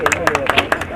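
Audience at a mushaira clapping, a quick run of sharp, loud claps in a lively but short burst close by.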